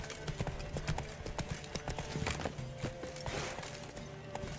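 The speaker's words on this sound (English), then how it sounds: "Come on, Roach. I can only canter." Horse hooves cantering in the video game The Witcher 3, a steady three-beat clip-clop rhythm up close, with faint tonal game sounds behind.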